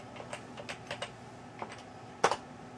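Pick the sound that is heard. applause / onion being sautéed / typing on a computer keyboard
typing on a computer keyboard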